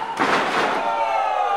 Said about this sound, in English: Tom slammed down to the mat by TJ Swift.